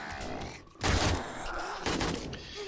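Gunfire in the video game 7 Days to Die, a couple of loud heavy bursts of shots close up amid ambient noise, with no talking over them.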